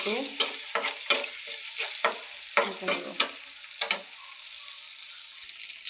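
Onion and chopped green chili frying in hot oil in a wok, with a steady sizzle broken by several loud scraping stir strokes early on, then settling to a softer continuous frying hiss.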